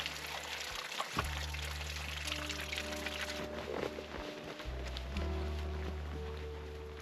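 Water trickles and splashes over two small waterfalls outdoors in the wilderness, a steady close wash of flowing water with low broadband rush throughout.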